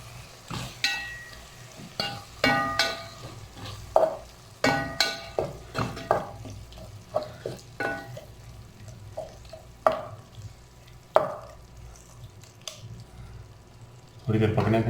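Tomatoes are stirred into a chicken gobi masala in a pot, with repeated scraping and clanking strokes of a spoon over a low sizzle and a voice speaking between the strokes.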